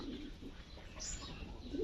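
Domestic pigeons feed on paddy grain in winter, giving low, soft coos in a few short bursts close by, with faint pecking and rustling beneath.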